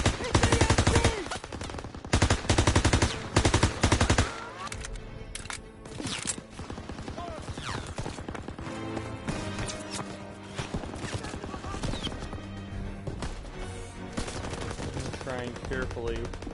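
Loud machine gun bursts rattle in rapid repeated volleys during a Call of Duty WW2 D-Day beach battle, followed by sustained gunfire, shouting and chaotic combat noise.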